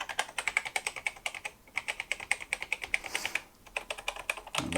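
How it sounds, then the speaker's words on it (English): Sticky, binding keys on a BBC Micro Model B keyboard are pressed in a fast, steady run of close clacking taps, with a brief pause midway before the typing resumes. "Not sure what's with the keys, because they're pretty sticky."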